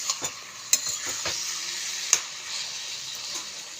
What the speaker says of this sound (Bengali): ঘেটে ঘেটে না দিলে তো তরকারিটা মিশবে না